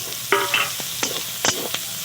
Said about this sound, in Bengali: পেঁয়াজ আর রসুন আদা সব একসঙ্গে ভালো করে ভেজে নেব